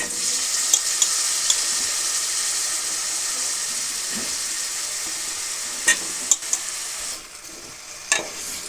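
Eggplant pieces, salted and dusted with turmeric, drop into a hot pan for a Telugu eggplant-tomato curry, setting off a steady loud sizzle with a few sharp clicks and scrapes of stirring, no talking.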